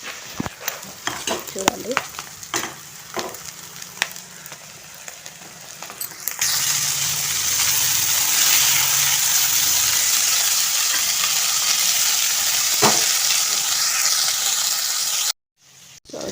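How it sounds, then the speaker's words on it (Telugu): Tomato pieces drop into hot oil with spiced shrimp masala and garam masala, setting off a loud, steady sizzle after scattered clinks and stirring, while a voice speaks briefly near the start. "ఇవి కాస్త ఆయిల్లో వేగాయి కదా, ఇప్పుడైతే టమాటా ముక్కలు వేసేసుకుంటా"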